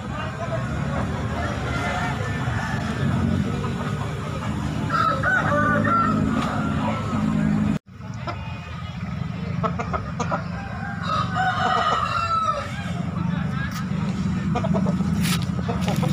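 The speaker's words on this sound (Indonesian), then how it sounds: "Liputan pada hari ini adalah ayam lokal dan berkualitas di Pasar Dayak Makassar." Local chickens at Pasar Daya, a market in Makassar, with roosters crowing and hens clucking continuously against a dense, loud market din, with a brief cut partway through.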